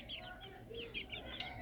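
Village chickens clucking softly near a rooster, a quick series of short, faint high calls over a low background hum.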